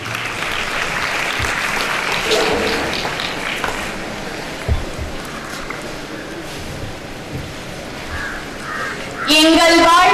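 Audience clapping at a school Children's Day event to welcome a student speaker, a dense, fairly distant patter that swells and fades over several seconds before a voice begins speaking at the end.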